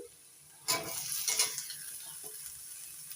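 Potatoes tipped into hot oil with lightly browned chopped onions, sizzling and being stirred in a pan for a Bengali puti fish chorchori; a sudden loud hiss starts the frying, followed by scraping stirs that settle into a steady sizzle.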